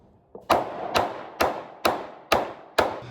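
A sledgehammer strikes six times in a steady rhythm, each blow a sharp, loud, close impact with a short ringing decay.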